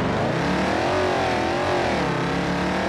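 Bentley car engine in BeamNG.drive revving loudly and continuously, a dense harmonic drone that swells and dips in pitch as the throttle rises and eases, heard up close without other sounds.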